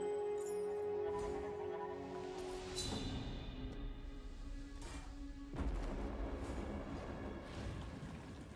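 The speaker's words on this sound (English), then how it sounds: "Solid chaos crystal explosion thing." Explosion of a chaos crystal in the video game Curse of the Allflame: a dense, rumbling burst with a sharp low boom around midway, layered over continuous game effects and tones, with no talking.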